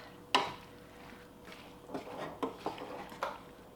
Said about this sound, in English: I'm just going to stir this all around and see where I'm at